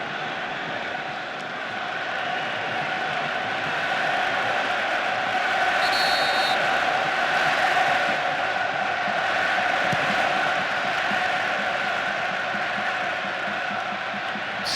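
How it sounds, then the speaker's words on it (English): Partisan stadium crowd in Paris at the 1998 World Cup match between France and Croatia, a broad steady roar of thousands of fans holding loud and continuous throughout, with no distinct chants or drumbeats standing out. "Support being drummed up with this partisan crowd in Paris."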